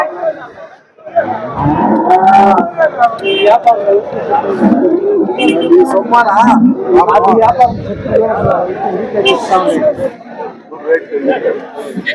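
A cattle market where Holstein Friesian cows are sold, with mooing mixed into a dense crowd of chatter and bargaining voices throughout, loud and continuous.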